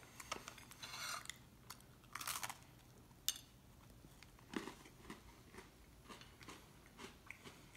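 Close, quiet crunching as someone bites into and chews a whole Dark Chocolate Oreo, with a few sharp crisp snaps early on followed by softer, scattered chewing sounds.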